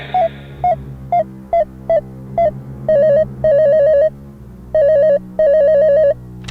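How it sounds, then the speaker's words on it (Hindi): A phone rings repeatedly through a handset line, short beeping tones followed by longer trilling rings, loud and evenly spaced. "भानु जी की सहेली चमेली को फोन लगाया जाए।"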